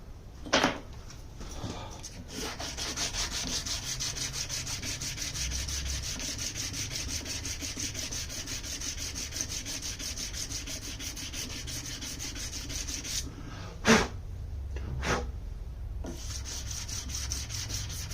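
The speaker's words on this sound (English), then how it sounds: "Okay, now we got to sand the crap out of it again." Steady rubbing of sandpaper on the wooden body of a mandocello build, a continuous close scratching with a few sharper knocks and scrapes near the start and toward the end.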